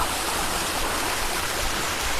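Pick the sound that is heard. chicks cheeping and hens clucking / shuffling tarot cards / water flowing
water flowing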